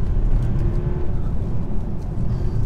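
A 2019 Audi Q7 50TDI diesel SUV pulling in second gear under manual control, a low, steady engine rumble heard from inside the cabin, continuous and fairly loud with no talking.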